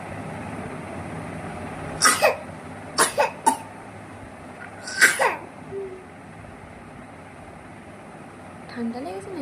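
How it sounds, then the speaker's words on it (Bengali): A child coughing indoors, several short sharp coughs in two clusters, close and fairly loud, with quiet background room noise and a brief faint vocal sound near the end. "কাশছে।"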